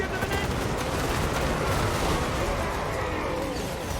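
Dense volley of shotgun fire at point blank range in Total War Warhammer 2, a continuous loud crackling roar of gunfire with battle noise throughout, no gaps.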